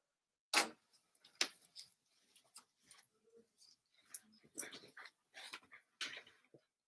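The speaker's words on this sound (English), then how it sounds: "Here's my dog." A dog close by making short, scattered sounds: a few sharp yips and snuffling bursts with soft whimpers between them, irregular and fairly faint.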